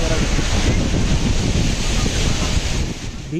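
Waves of the Arabian Sea crash and hiss along the shore at Honnavar beach in a dense, unbroken roar, with gusty wind rumbling across the microphone.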